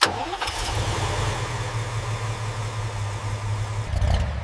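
A 1978 Toyota Land Cruiser FJ40 engine cranks and catches, then settles into a steady, rumbling idle that swells briefly near the end, loud and close with no voices.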